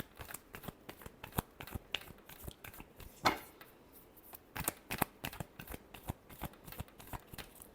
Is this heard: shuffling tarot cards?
yes